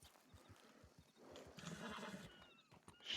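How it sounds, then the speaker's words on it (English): In the Red Dead Redemption video game, a horse snorts and whinnies in agitation while its hooves clip-clop in a steady rhythm, fairly close and quiet overall. "The horse is freaking out"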